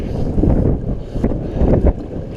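Strong wind buffets the microphone out on a boat, a loud low rumbling roar in uneven gusts, close and continuous.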